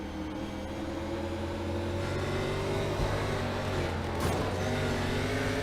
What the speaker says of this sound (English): listen to his acceleration coming off of 4